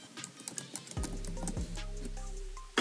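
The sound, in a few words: typing a password on a computer keyboard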